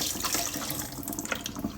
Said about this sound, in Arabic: كب المي هون